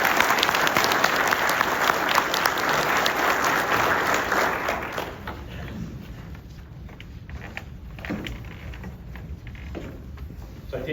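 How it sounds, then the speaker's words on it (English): Sustained applause from an audience at a Kenosha County Sheriff's Office awards and promotions ceremony, loud and dense clapping for a deputy at first, then thinning into scattered claps toward the end. "A round of applause for Deputy Brooks."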